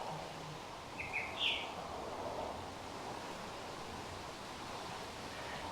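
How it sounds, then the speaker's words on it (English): A small bird sings in the evening on Aruba, giving a couple of brief high chirps near the start, fairly faint against steady wind and surf-like noise. "There's a beautiful little bird that likes to hang out in the evening and sing to us."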